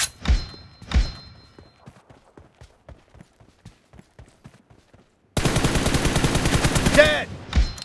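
An M416 rifle fires in a room fight in a shooting video game: two heavy shots open, a light rapid ticking follows, then a loud, dense burst of automatic fire runs for about two seconds.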